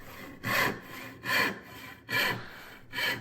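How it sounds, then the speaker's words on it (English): A resharpened, restored vintage rip handsaw making rip cuts through wood, with four steady, evenly spaced rasping strokes, close and clear with no talking. "First cuts with the resharpened, restored saw, and it just starts to mow through the wood."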